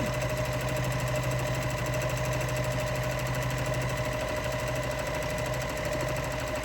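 A sewing machine doing free motion quilting runs continuously up close with a steady, rapid mechanical whir and needle chatter, loud and even throughout with no talking.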